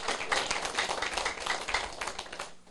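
An audience claps during a lecture at a legal seminar, dense close clapping that holds steady and then tapers off at the end.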